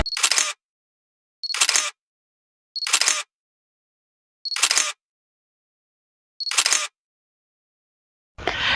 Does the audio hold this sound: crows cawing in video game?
no